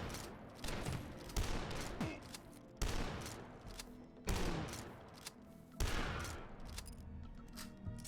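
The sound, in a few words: super shotgun firing in the video game Dusk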